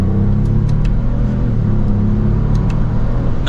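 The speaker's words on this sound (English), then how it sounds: "And from 2nd gear, let's give it some gas." A 2024 Lexus GX550 Luxury in sport mode accelerates from second gear using paddle shifters: a steady, loud, low engine drone with mild rumble heard from inside the cabin and no sharp change in pitch.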